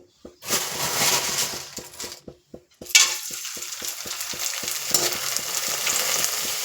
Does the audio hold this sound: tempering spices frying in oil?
yes